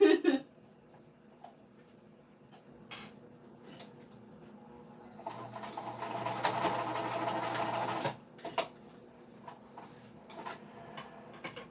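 Sewing machine stitching an upcycled winter crescent bag in one steady run of about three seconds midway through, with a quiet room and a few scattered clicks before and after.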